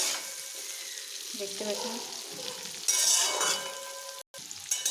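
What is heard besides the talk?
onion and capsicum frying in a pan for chicken curry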